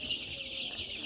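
Nine-day-old Tiger breed chicks, brooder-raised, chirping and clucking softly in a brief, faint burst of high, thin peeps.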